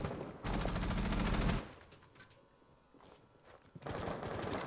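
Rapid automatic gunfire in a Rainbow Six Siege pro league match, two loud sustained bursts separated by a quieter stretch of scattered shots and footsteps.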